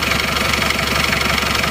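An Isuzu Panther 2.3 diesel engine, re-linered seven years earlier, idles steadily up close with a dense, even rumble and a faint knocking rhythm throughout, with no talk.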